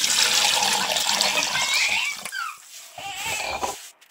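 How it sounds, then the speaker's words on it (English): Coconut milk being poured into a cooking pot for Guyanese metemgee, a close, bright liquid splash and gurgle that tapers off into quieter pan sounds. "So now I'm going to add the coconut milk in here."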